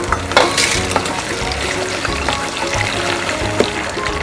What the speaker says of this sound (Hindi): सरसों का तेल है तो आप टेंशन ना लें ज़्यादा, सेहत को इतना भी हार्मफुल नहीं है। Let's start getting it fried. Fried होना स्टार्ट हो गया।